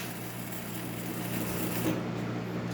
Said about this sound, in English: As you can hear, machine is filling the boiler.